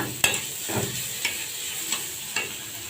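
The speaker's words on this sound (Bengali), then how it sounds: "এখন ভালো করে পেঁয়াজটা একটু লাল লাল করে ভেজে নেব" Chopped onions fry in a pan for a fish curry, a soft steady sizzle broken by about five light scraping stirs at regular intervals, close and fairly quiet.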